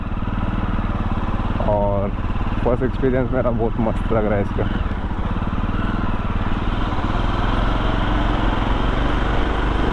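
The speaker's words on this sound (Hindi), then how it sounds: "मैं फर्स्ट टाइम जावा की कोई बाइक चला रहा हूँ" A Jawa Perak bobber motorcycle rated at 30 PS and 31 Nm hums steadily as it is ridden, its low engine drone constant throughout while the rider talks over it.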